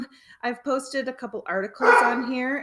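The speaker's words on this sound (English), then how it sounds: "Oops, that's my dog." A pet dog barks in short, close yaps right under a woman's speech, the barks overlapping her talk in a brief burst.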